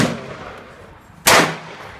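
One sharp, loud revolver gunshot cracks at an outdoor shooting range, with a short decaying tail and faint residual noise before it.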